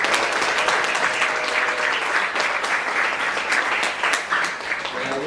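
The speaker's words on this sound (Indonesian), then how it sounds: "kita beri aplaus kepada Bapak Margono" A hall full of students and adults gives a school guest a round of applause during a visit to the Jakarta regional parliament, dense steady clapping sustained throughout.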